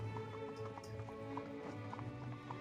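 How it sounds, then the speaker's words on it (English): Horse hooves clip-clop in a quick, steady galloping rhythm in Lovebrush Chronicles, with sustained tonal game music playing alongside and no speech. "The force of his horse's hooves send a cloud of snow and dust into the air."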